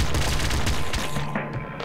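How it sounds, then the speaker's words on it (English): Rapid automatic gunfire from a triple machine gun in the video game Nuclear Throne, a loud continuous burst of overlapping shots with booming impacts that keeps going for nearly two seconds and then cuts back. "Triple machine gun."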